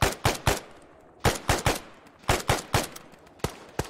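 Sharp, loud gunshots in a military video game, fired in short bursts of two or three, about a dozen shots with brief pauses between clusters and no talk.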